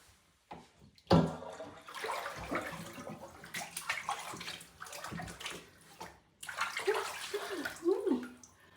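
Bath water draining out of a tub after a child's first bath, steady sloshing and gurgling water noise across the whole stretch, close by, with brief pauses and a few louder surges.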